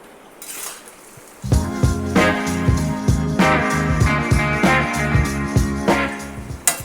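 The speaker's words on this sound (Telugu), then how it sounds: "ఇది కాస్త రంగు మారేంత వరకు వేయించుకోవాలండి" Bitter gourd pieces fry in hot oil with a steady sizzle, while a utensil clinks and scrapes against the pan in repeated, fairly close and loud strokes.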